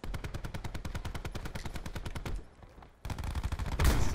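Rapid bursts from a powerful gun in a video game fire in a steady, fast rhythm for about two seconds, break off briefly, then resume loud and close.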